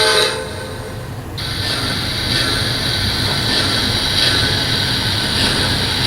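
A Lionel LionChief Polar Express toy train running, a steady rolling rumble with a sustained high horn tone sounding continuously over it, close and fairly loud.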